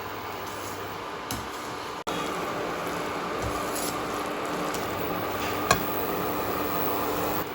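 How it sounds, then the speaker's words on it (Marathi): Vegetable hakka noodles stir-fried in a pan, a continuous even sizzle with occasional soft scrapes and stirring knocks, close and steady throughout. "इथं आता आपण हे नूडल्स पाच ते दहा मिनिटं परतून घेऊयात"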